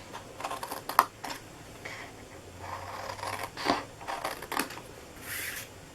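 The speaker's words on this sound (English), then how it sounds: "we're going to cut that corner out, and we're going to cut this corner out." Scissors snip through a gift bag to cut away its corners, giving a few short, crisp cuts and light paper rustles spread across the quiet stretch.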